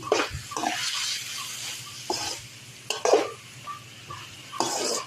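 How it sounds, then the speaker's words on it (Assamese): A spoon stirs Assamese fish curry with pumpkin shoots in a pot, making intermittent scraping and sloshing bursts over a soft, steady bubbling simmer. "এতিয়া মই অকণমান লৰাই দিম"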